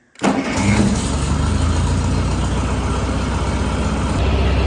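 An engine on a dead battery, hooked to a jump starter, catches almost at once after a brief crank and settles into a loud, close, steady idle.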